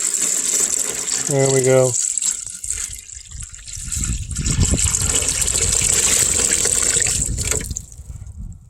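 Roughly a gallon of water poured into a toilet bowl treated with a clear water solidifier to imitate a flush, a steady gushing, splashing pour lasting several seconds, with a person speaking briefly near the start.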